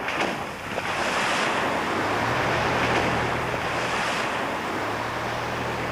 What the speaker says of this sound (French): Voici l'eau version gros splash.